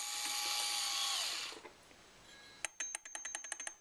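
A Geneva wheel mechanism on a gear motor with slight play, fastened with stainless steel hardware and nylon washers, gives a run of sharp, evenly spaced ticks after a loud whirring motor stops.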